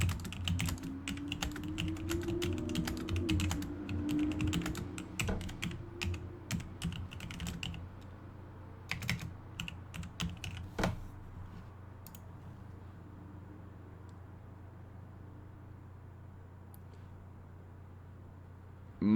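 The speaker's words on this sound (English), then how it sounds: "I could type in presidents" Rapid clicky typing on a computer keyboard fills the first few seconds, then thins into scattered keystrokes and stops, leaving a quiet room hum.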